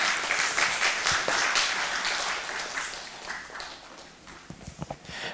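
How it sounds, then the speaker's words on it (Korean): Welcoming applause from a church congregation at a Sunday worship service as the preacher comes up, a dense steady patter of many hands that thins toward the end. "우리 올라오실 때에 환영의 박수 부탁드립니다"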